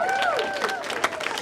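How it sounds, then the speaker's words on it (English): Comedy-show audience in DC applauding and cheering, a dense wash of clapping with whoops and a raised voice over it, loud and close for just over a second. "give yourself a round of applause"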